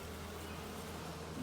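A dense, steady buzz of many honeybees in a hive, continuous and close, filling the whole clip without pause.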